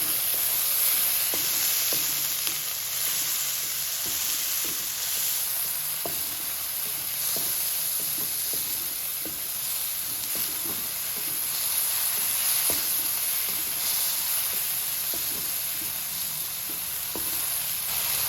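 Green chillies and tomatoes sizzle in a hot pan while a spoon stirs them, scraping and tapping at a loose, irregular rhythm over a steady, close frying hiss.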